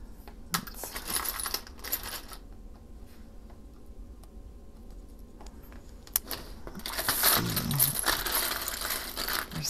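Buttons, including some wooden ones, rattle and clack in bursts as a hand sorts through them nearby, with quieter pauses between handfuls.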